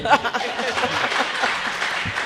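An audience at a Karachi literature festival panel claps in a brief burst with some chuckles, while someone speaks over it.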